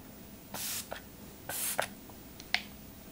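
A Jouer Moisture Mist sprayer gives two short, breathy hissing puffs about a second apart, close and fairly quiet, followed by small clicks and a final sharp tap.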